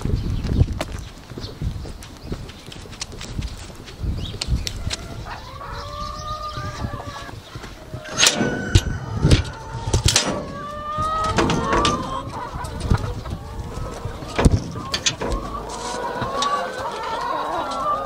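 Chickens cluck and squawk in a coop, with scattered calls rising over irregular knocks and thumps, close by and of varying loudness.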